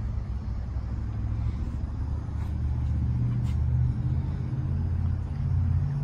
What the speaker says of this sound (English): We've got our three-cylinder Kubota diesel engine